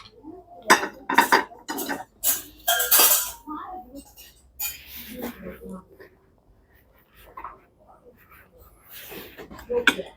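Ceramic plates and bowls, including a dessert plate, bowl and deep dinner plate from dowry tableware, clink and knock in a series of sharp handling taps, close and fairly loud, with a voice talking between them.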